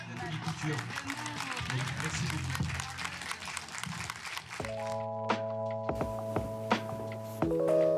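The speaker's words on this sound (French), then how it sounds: "l'équipe qui ressort sous les applaudissements des spectateurs" An audience claps in a dense, continuous patter at a media library for a comedy festival, with a voice over it, then the clapping gives way to steady sustained tones.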